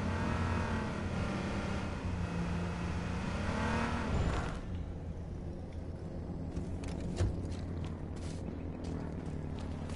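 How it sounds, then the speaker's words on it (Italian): A car engine in a video game hums and revs steadily, then eases off, leaving a lower idling drone with a few sharp clicks. "Sento un'altra macchina."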